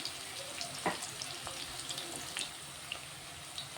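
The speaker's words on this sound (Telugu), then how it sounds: "ఇది కొంచెం ఫ్రై అవ్వాలి. ఒక 2 నిమిషాలు ఫ్రై అయితే చాలు." Okra frying in a pan gives a faint, steady sizzle with a few light clinks and scrapes scattered throughout; no one speaks.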